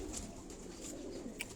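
Pigeons cooing on a rooftop loft, low soft coos repeating steadily at close range, with a brief sharper call near the end and no talk.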